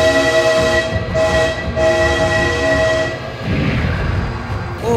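A train horn blares in long repeated blasts as a train rolls past in BeamNG.Drive, loud and close over heavy rumbling, with the horn breaking off near the end and no talking.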